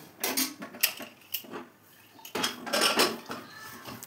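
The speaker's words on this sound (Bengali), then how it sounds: "এখন আমি 2 কাপের মতো জল দিয়ে দিয়েছি এবং প্রেসার কুকারের ঢাকনাটা আমি দিয়ে দেবো" A metal lid set onto a pressure cooker holding dalia khichdi and water, a few clattering clanks and scrapes of metal on metal, close, with a brief quiet gap before a busier burst of clinks.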